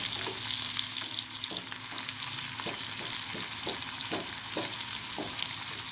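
Agathi keerai leaves dry-fried in a pan without oil, a steady soft crackling sizzle with repeated scraping stirs, continuous and close, with no talking.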